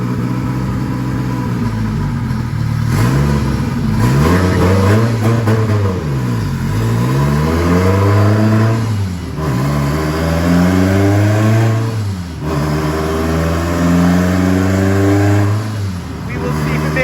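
A turbocharged all-wheel-drive Toyota Starlet with a Honda D16 engine revving hard on a dyno, loud and near, climbing and dropping through several sweeping pulls with brief dips between, while voices talk over it.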